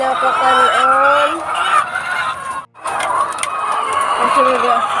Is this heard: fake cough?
no